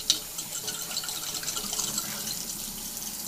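Tap water runs steadily into a sink while a trumpet valve smeared with toothpaste is rinsed by hand, a close, continuous splashing gush with no talk.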